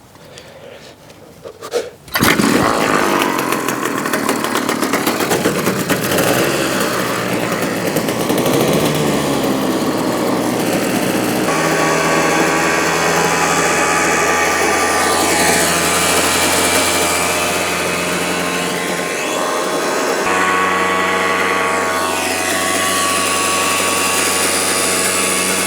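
A turbocharged engine fitted with its original carburettor starts after a brief clatter and then revs high and loud, holding a steady buzzing drone with slight pitch shifts for over twenty seconds, no talking.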